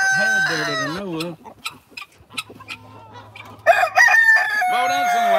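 A rooster in a Georgia farmyard crows loudly and close by, with one long crow at the start and another after a short pause, over faint background sounds.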